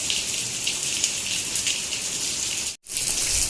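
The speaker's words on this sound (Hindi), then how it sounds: "एकदम तेज़ बारिश हो रही है" Heavy rain pours with a dense, steady hiss, briefly dropping out for a moment before resuming just as strong.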